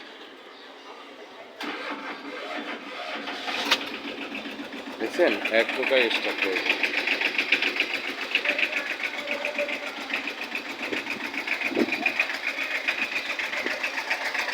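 A Tata diesel truck engine cranks and catches, then settles into a steady, rattling idle while someone talks nearby.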